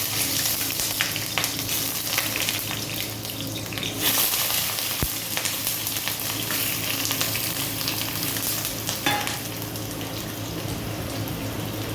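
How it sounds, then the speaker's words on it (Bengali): Potatoes frying in a pan give a loud, steady sizzle and crackle that runs unbroken from start to finish, with a few brief clinks and stirring scrapes. "প্রথমেই আলু ভাজবো"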